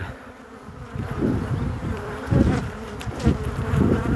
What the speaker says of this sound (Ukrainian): Лиснула погода і муха прийшла з поля і рій теж.